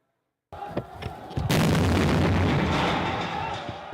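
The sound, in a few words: artillery bombardment of residential neighborhoods in Homs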